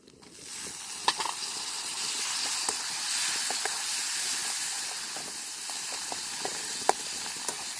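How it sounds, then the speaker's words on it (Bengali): Chopped tomato hits a hot pan with chilli, turmeric, black pepper and cumin powders and salt for a meatless fish-style curry, and a loud, steady hiss of sizzling starts within a second and runs throughout, dotted with small pops. "এবার টমেটো কুচিটা দিয়ে দেবো।"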